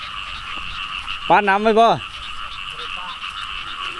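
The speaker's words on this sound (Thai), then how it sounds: "เสียงกบเสียงเคียนห้องเชี่ยวนี่แหละคือชาวนาแท้พี่น้อง" Frogs croaking in a rice field after fresh rain, one close, loud burst of rapid croaks lasting under a second over a steady insect-like drone, with a person speaking briefly.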